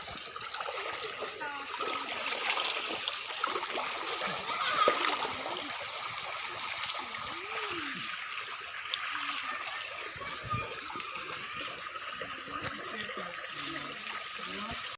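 Water from a forest stream trickles and splashes steadily in a soft, continuous flow, with faint voices murmuring in the background.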